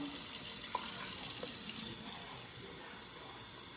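Tap water runs steadily into a 2-cup measuring cup at a kitchen sink while making old-fashioned chicken and noodles, a close, even rushing hiss that drops slightly in level partway through as the cup fills.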